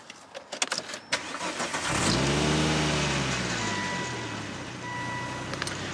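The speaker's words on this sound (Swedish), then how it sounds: "Och sen startar vi bilen här" A Volvo V70 engine cranks and catches, then settles into a steady idle, heard close and alone after a few soft clicks.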